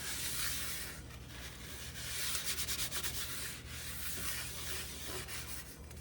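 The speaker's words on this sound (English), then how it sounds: "all I have to do is just wipe it out. That black residue, just wipe it out." A cloth or paper towel wipes black residue out of a cooking pan, giving a steady scraping rub that carries on through the whole stretch at close range, with no voices.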